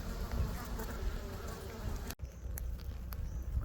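Honeybees buzzing around an open hive during an inspection, a continuous close droning hum with individual bees passing near the listener.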